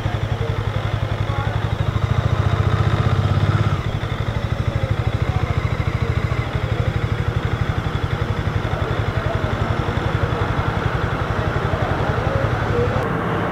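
A motorcycle engine idles steadily, its low rumble running the whole time with a slightly louder stretch near the start, mixed with a busy background and some nearby talk.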